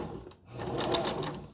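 A sewing machine stitches through velvet fabric, a short burst of quick, even mechanical chattering up close after a brief pause.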